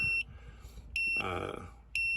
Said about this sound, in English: when you take one of the sensors off, you can see it gives you an alarm that the sensor is missing